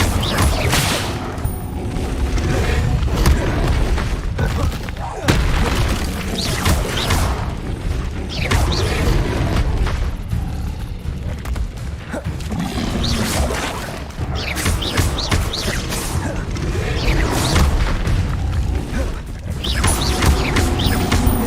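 Hogwarts Legacy combat with the Incendio fire spell cast over and over, bursts of fiery whooshes and booms coming in quick succession, loud and dense throughout with crashing impacts.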